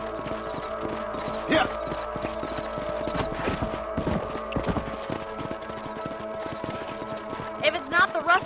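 Horses trotting in Red Dead Redemption, hooves clip-clopping in uneven bursts over a steady bed of ambient game sound and music, with a few sharper knocks and a brief spoken interjection near the start.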